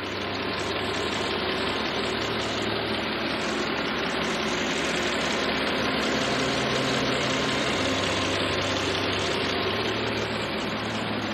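A car engine idles steadily with a low, even rumble that holds constant throughout, close by and with no voices.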